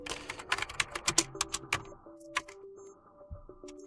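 Fast, uneven typing on a computer keyboard with crisp key clicks in quick bursts, entering a 7z command in a Linux terminal, then a few scattered taps with pauses and faint electronic tones between them.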